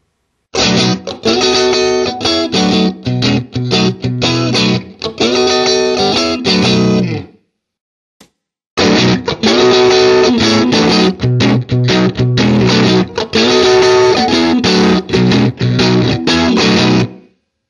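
An electric guitar plays through a Vox AC30 amp with its normal and top boost channels blended, giving loud, full chords and riffs in two phrases split by a short silence, with no voices.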